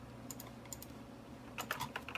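A computer keyboard being typed on in two short bursts of quick, close, crisp keystrokes separated by a brief pause, with no voices.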